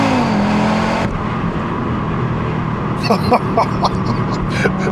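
An Audi RS3 hatchback at full throttle gives a loud, close engine roar that holds steady and then drops as it upshifts, with a voice over the engine in the second half.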